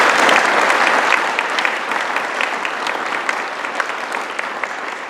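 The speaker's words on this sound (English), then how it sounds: "Let's give them a big round of applause." An audience claps in loud, sustained applause at a sustainability summit, a dense wash of many hands that stays strong throughout and eases slightly toward the end.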